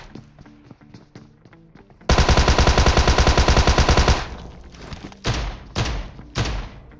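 A Tommy gun fires in a battle royale video game, a long rapid automatic burst of evenly spaced loud shots, preceded by faint footstep taps and followed by several heavy thuds.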